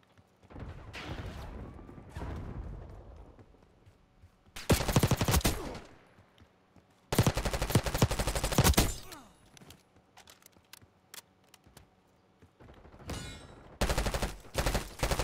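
Gunfire from the video game Black Ops 6 on the Rewind map, with long bursts of automatic fire and scattered single shots separated by quiet stretches, loud and close.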